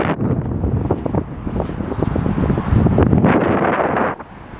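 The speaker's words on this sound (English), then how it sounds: "It's still windy as shit" Strong wind buffets the microphone on a sunny reef shore at low tide, a loud continuous rumbling roar with gusty surges and no voices, dropping off abruptly near the end.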